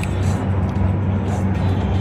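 Chromed-out Freightliner semi truck on a highway gives a steady, close, low rumbling drone of engine and road noise through the whole brief moment, with no clear talking.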